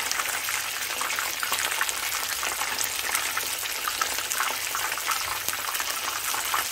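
Dense, crackling hiss of chicken frying in hot oil, steady and close, with no voices.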